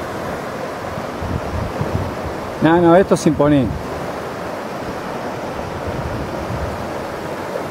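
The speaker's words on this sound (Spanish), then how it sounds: "donde el agua de deshielo viene bajando" Glacial meltwater rushes over a rocky bed in the Andes, a steady broadband roar of flowing water close by, briefly overlaid by someone speaking.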